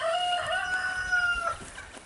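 A rooster crows at a ranch, a loud, drawn-out cock-a-doodle-doo close by, with faint clucking and farmyard background around it.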